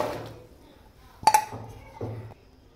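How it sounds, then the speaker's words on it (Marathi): Chopped pav bhaji vegetables tumble into a metal pressure cooker with a few quick metallic clinks and knocks, close and fairly quiet, with no talking. "मी आता ह्या सगळ्या भाज्या टाकते कुकर मध्ये"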